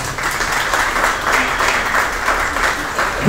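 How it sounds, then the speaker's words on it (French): Applause at a certificate ceremony for the CIFOS Cap'Preneurs graduating class: steady, dense clapping from a crowd filling the room throughout, loud and continuous with no voices breaking through. "On bat un applaudissement pour SIFOS"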